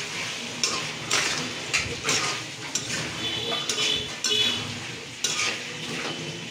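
Pigeon meat stirred in a kadai (wok) with a spoon, scraping and clinking against the metal pan every second or so, over a steady low sizzle of frying.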